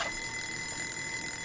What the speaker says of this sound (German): Da, ach, Tatsache, es ist echt ein Wecker